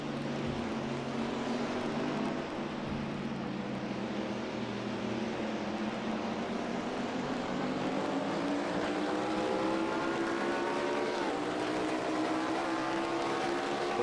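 A race car engine at full throttle in the NR2003 racing game, a continuous loud droning roar with gradually rising pitch as it accelerates, a brief dip and then climbing again, no talking.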